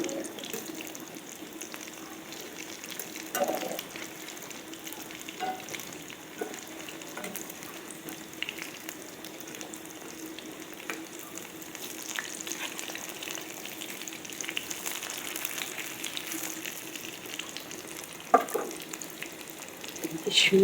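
Loitta fish (Bombay duck) fritters fry in hot oil with a soft, continuous sizzle and crackle, close and quiet, broken by a few brief clinks and stirring bumps, with no one speaking.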